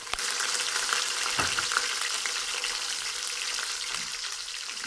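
Tomatoes drop into browned onions frying in a pan, giving a steady, close hiss of sizzling oil with a few stirring scrapes, no voices.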